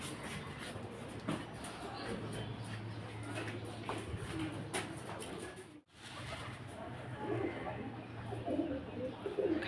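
Pigeons coo low and steadily while being fed grain scattered on the ground outdoors, a close, continuous murmur of calls with faint rustling and a brief dip partway through.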